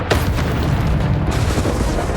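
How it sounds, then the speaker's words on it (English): The Expelliarmus spell cast in the Hogwarts Legacy video game bursts out as a loud, dense booming blast that rumbles on continuously for about two seconds, with no voices over it. "Expelliarmus!"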